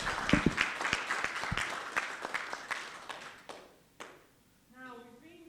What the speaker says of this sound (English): Let's give Kimanya another round of applause.